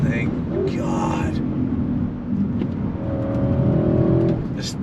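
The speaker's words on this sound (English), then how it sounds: "Just running all the way to red line." A 2022 Audi RS6 Avant engine pulling hard toward the red line, a loud sustained roar that rises in pitch with wind rush, and someone talks over it.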